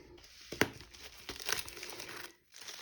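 Christmas gift wrap crinkles and tears in short bursts as a present is unwrapped close by, with a sharp rustle near the start and softer crumpling after, then a brief pause.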